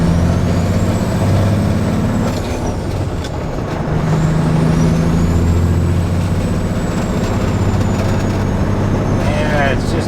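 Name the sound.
truck with faulty transmission shifting gears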